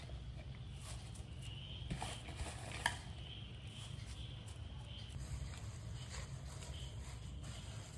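Ingredients for Tulu tajank pathrode are stirred and mixed in a vessel, with faint, continuous scraping and occasional light clinks over a quiet kitchen background.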